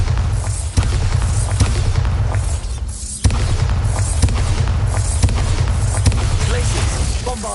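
Bombarda blasting spell in Hogwarts Legacy combat, deep booming blasts with sharp thudding hits, one heavy impact standing out, amid dense loud battle noise and some voice.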